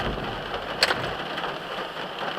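Steady rain falls and patters on a surface around a parked spot, a broad even hiss with one brief sharper tap partway through, no voices.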